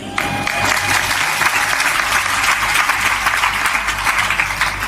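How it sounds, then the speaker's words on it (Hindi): A loud, dense burst of applause from an audience at a devotional satsang gathering, continuous clapping throughout with no speech over it. "ताली बहुत जोर से बजाई आपने, मगन कर दिया।"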